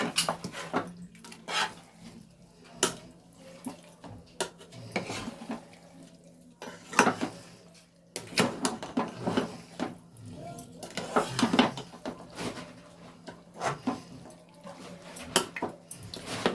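Mutton being stirred and mixed with spices in a pot, with repeated metallic scrapes and clanks of a spoon against the pot in irregular bursts, some quiet stretches in between.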